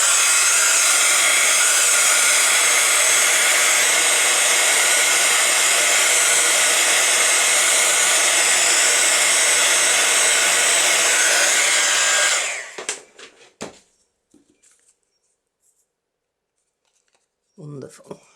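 A hair dryer runs steadily at close range for about twelve seconds, drying a handmade paper craft tag, then cuts off, leaving a few faint clicks and a brief rustle near the end.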